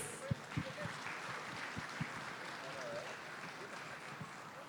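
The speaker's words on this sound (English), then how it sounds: "Let's give a warm and heartfelt round of applause for the third batch of laureates" Applause at a peace prize ceremony rises for a group of laureates, a faint, distant, continuous patter of many hands with a few sharper claps and a voice heard briefly over it.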